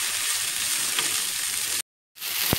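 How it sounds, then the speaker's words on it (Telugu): Tender tamarind leaves frying in a spoonful of oil in a kadai, a dense close sizzle that cuts out abruptly for a moment before resuming. "తర్వాత అదే కళాయిలో 1 స్పూన్ ఆయిల్ వేసుకొని చింత చిగురు కూడా వేసి మనం 2 నిమిషాలు వేయించుకోవాలి"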